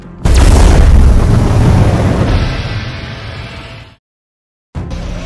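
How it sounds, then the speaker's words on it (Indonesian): An automatic bomb detonates in a scene from the action film Hitman: Agent 47, a sudden loud booming blast with a long rumbling roar that fades over several seconds, then a brief cut to silence before more noise resumes. "Del Riego sendiri tewas oleh bom otomatis pas dia akan mengambil senjata"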